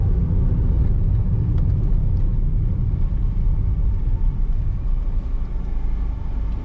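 A 2012 Perodua Myvi 1.5 SE automatic on a test drive, its steady low engine and road rumble heard from inside the cabin with no talk.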